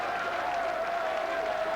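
Football crowd applauding a Spanish goalkeeper's penalty-shootout save in a Doncaster Rovers versus Arsenal Carling Cup quarter-final, a steady, dense wash of clapping and crowd noise throughout.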